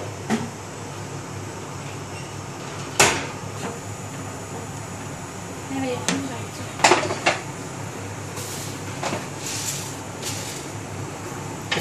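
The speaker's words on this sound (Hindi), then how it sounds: "इसको आप चम्मच जो है ना बिल्कुल हिलाते रहें क्योंकि नीचे ना लगे।" A spoon scrapes and clinks against a pot of milk simmering down for rabri, with sparse metallic knocks at irregular intervals over a steady, noisy background hum.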